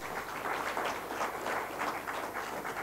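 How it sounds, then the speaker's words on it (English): Audience applause for a speaker at an event, a steady, fairly faint patter of many hands clapping throughout, heard from a distance with no voices over it. "Could we please have a huge round of applause for Dr."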